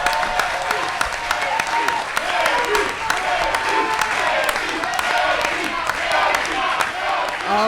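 A live audience at an LA Fleet Week cooking competition between military galley teams cheers and applauds steadily, with whoops and shouting rising over the dense crowd noise through the final seconds of the contest.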